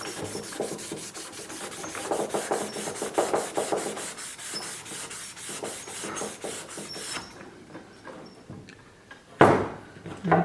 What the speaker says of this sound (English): we're going to have to get aggressive with this hunk of Scotch-Brite